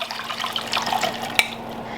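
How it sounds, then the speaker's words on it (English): Fig soaking liquid poured through a strainer into a saucepan, a steady close trickle and splash of water with a brief clink partway through. "So I'm going to strain it into my saucepan."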